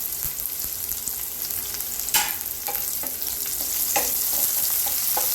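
Chopped onion and curry leaves fry in a pan with a steady close sizzle, broken by a few sharp crackles and spoon scrapes as they are stirred.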